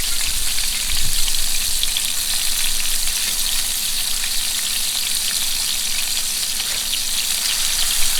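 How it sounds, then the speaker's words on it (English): Cheddar-stuffed meatballs searing in a hot pan after being turned, giving a dense, loud, continuous sizzle heard up close with no voices. "now we're going to turn them again so we get those sides nice and done and seared in"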